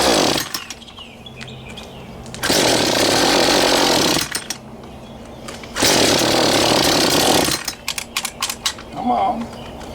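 A Poulan Pro 42cc 4218 chainsaw with low compression and a newly installed cylinder sputters and briefly catches twice, roaring for a couple of seconds each time before dying, with pull-start rattles and clatter in between, loud and close.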